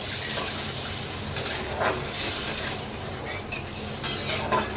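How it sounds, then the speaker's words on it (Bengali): Water going into cooked, fried-down spice masala for egg curry, a steady wet sizzle and gurgle with soft stirring and clinks against the pan, fairly close and continuous, no talking. "মশলাটা কষানো হয়ে গেছে, এবার এর মধ্যে অল্প করে জল দেব"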